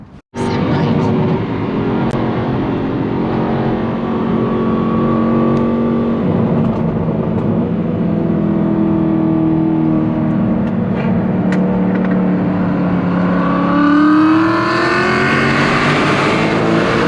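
Aston Martin V8 Vantage with a Velocity AP X-pipe exhaust, cats and a stage 2 tune, driving with a loud, steady engine drone throughout and revs climbing near the end.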